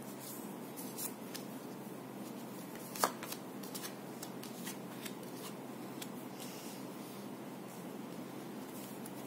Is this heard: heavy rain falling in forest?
no